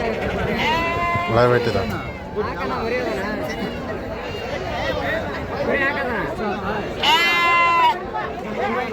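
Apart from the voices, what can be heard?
sheep bleating at Amingad sheep market, Karnataka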